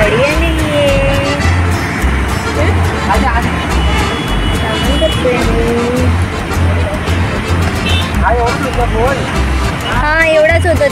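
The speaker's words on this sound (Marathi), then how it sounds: "गाडी आलेली आहे." Vehicle arriving among a crowd in a village during the Shimga Holi festival, its engine rumbling close by under loud babble of many voices, with horn-like tones and drumming in the busy festive scene.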